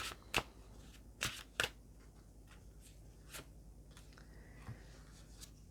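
A new deck of Witch's Familiars tarot cards is shuffled close by in a quiet room: a few sharp riffling bursts near the start, then softer, scattered card slides and taps.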